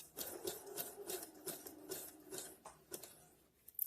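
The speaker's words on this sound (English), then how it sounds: "Back and forth stitch, I have to do it." A sewing machine stitching back and forth while making DIY shorts, a rapid close whirring chatter in quick bursts with brief pauses and a click at the end.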